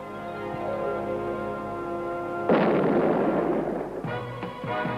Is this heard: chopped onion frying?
no